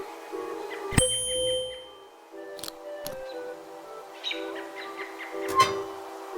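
A bright bell chimes in the adventure game Willy Morgan and the Curse of Bone Town, a sharp ring with a lingering tone, followed by further short metallic dings and chirpy effects over quiet ambience.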